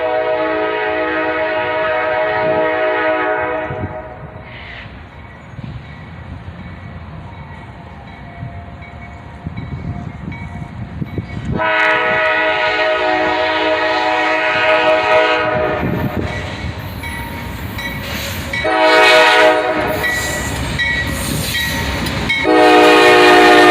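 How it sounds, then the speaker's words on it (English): A freight train led by a rebuilt Cm44AH locomotive rolls past with loud, steady rumble and rail noise, its horn sounding in several long blasts near the start, around the middle and again toward the end. "train, led by a Cm44AH rebuild."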